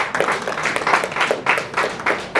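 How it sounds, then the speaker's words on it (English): A round of applause from the audience at a university inaugural lecture, brisk scattered hand clapping in uneven bursts, fairly loud and close with no talk over it. "let's give another round of applause again"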